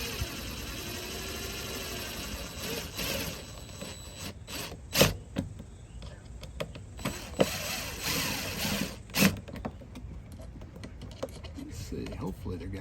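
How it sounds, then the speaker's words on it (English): Screws being driven into holes while a 30 amp shore power cord is installed in a Sprinter van: a run of close, sharp clicks and taps with scraping handling noise in between, and a person speaking at times. "We're just putting the screws into the holes."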